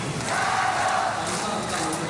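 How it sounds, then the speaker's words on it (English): Supportive crowd noise in an arena at an Olympic women's 58-kilo weightlifting event, a steady broad roar of cheering that holds at an even level throughout, with no distinct voices standing out. "you can hear the crowd so supportive in the background"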